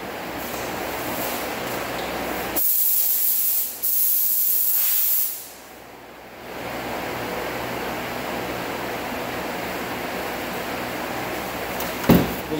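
Flex Sealer, value shade 5, hisses from a spray gun onto a 2007 Honda Accord being repaired after a deer strike, as a loud steady spray with short pauses and one brief drop in level before it resumes.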